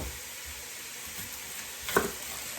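Garlic, sausage and purple onion sauté in a pan with a soft, steady sizzle, fairly faint, broken by one brief clink of stirring near the end.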